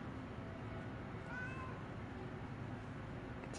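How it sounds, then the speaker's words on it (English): A cat meows a few times in the Lies of P DLC, a soft, fairly distant call rising above a steady bed of game ambience and music, with no speech. "In the base game, that cat always hisses at you."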